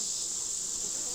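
Honey bees swarming over brood frames from an open hive make a constant, dense, high-pitched buzzing hum, steady and close, with no voices.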